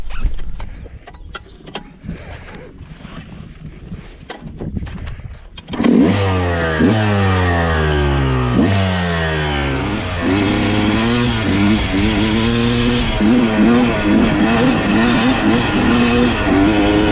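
A stock motorcycle engine with an unported cylinder revs hard and then runs continuously as the bike is ridden along a trail. Repeated gear shifts make the pitch climb and drop in cycles. The engine is loud and close, and no one talks over it.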